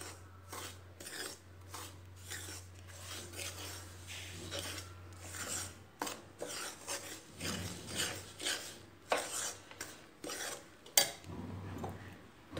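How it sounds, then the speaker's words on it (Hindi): A spoon scrapes and rubs around a bowl, stirring a mixture of bread, milk powder and milk in quick rasping strokes, close and clear with uneven rhythm and a faint low hum beneath. "सब नूं मिक्स करन तो बाद इहदे च दुध मिक्स कर लांगे। फिर इहनूं चंगी तरह घोल लांगे।"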